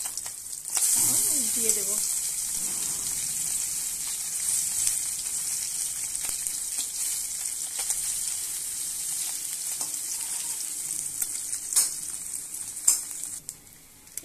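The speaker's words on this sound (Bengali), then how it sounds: "একদম হাঁকা তেলে ভেজে নিতে হবে, লাল লাল করে ভেজে নেব" Small tangra fish frying in very hot oil give a steady, bright sizzle that runs throughout, with occasional pops and crackles, while someone speaks briefly over it.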